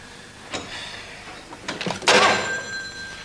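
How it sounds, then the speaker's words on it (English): An indoor telephone bell rings in one bright burst near the end, after a few soft knocks and clunks, with no voices over it. "Come on, answer the phone."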